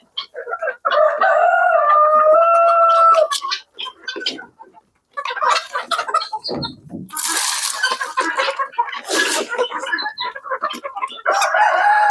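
Hungry chickens cluck loudly and close by in a poultry farm shed bedded with straw. Busy overlapping clucks and squawks come in bursts, with a rooster crowing among them.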